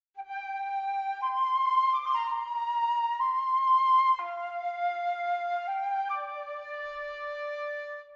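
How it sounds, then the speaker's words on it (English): A solo flute plays a short, smooth melody of sustained notes that step between pitches, clear and close with no other sounds. "So we'll put in a little melody on the flute first of all."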